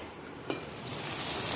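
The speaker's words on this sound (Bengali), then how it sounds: "এদিকে ঢেঁড়স ভাজা হচ্ছে" Okra frying in a pan, a faint steady sizzle with a single light clink near the start, brief and close, with no speech.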